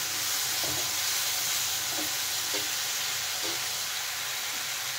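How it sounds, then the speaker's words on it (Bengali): Ground spices cooking with a splash of water in a pan for a vegetarian potato and cauliflower dish hiss in a dense, continuous sizzle, close and even, with a few soft stirring knocks underneath. "দেখেন জল দিয়ে কিন্তু এখন মশলাটা একটু ভালো করে কষিয়ে নিতে হবে"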